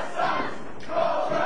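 A wrestling crowd jeers Cobra Kai, a dense roar of booing and shouting voices that swells and stays loud throughout.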